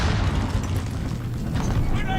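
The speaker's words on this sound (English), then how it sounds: "I threw a grenade." A grenade explodes in a video game as a deep, sustained rumbling boom that stays loud throughout, with a voice talking over it.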